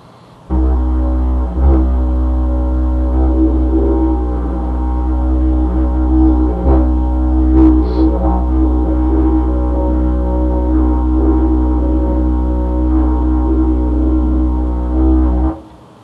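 A deep, droning didgeridoo hums continuously and loudly, with soft rhythmic pulses and subtle overtone shifts, alone and close, imitating the coo of a bush pigeon.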